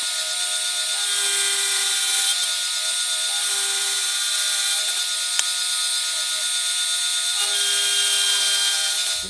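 A Shopsmith drill press motor runs steadily in a woodshop while hollowing a guitar body, a loud whirring whine with a constant pitch and a faint tick midway.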